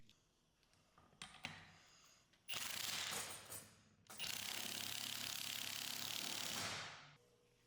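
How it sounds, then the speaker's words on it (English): Quick ratcheting on a large nut and washer being tightened onto a Ford Ranger driveshaft, two long close bursts of dense mechanical clicking after some faint handling sounds. "Place the large washer and nut onto the shaft and tighten it down."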